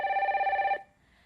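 A telephone rings for an incoming call during a live studio call-in broadcast, a steady electronic warble for under a second that stops abruptly, leaving near silence.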